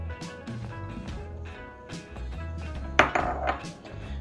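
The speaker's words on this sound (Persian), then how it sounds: "بروکلی رو میریزم. هویجی که تفت دادم و سرد شده بهش اضافه میکنم." Broccoli and cooled sautéed carrots are tipped into a salad bowl, making a series of soft clinks and taps against the dish. A sharper clatter near the end stands out over a quiet kitchen background.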